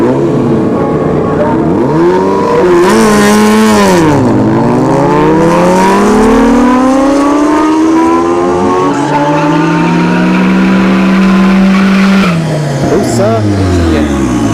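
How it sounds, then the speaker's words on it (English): Honda CBR 1000 and Suzuki Hayabusa motorcycles launching side by side down a drag strip at a test-and-tune session, engines screaming loud and close with rising and falling gear-change sweeps, a voice talking over the roar. "CBR 1000 right for Busa there on the left. Busa is gonna take this."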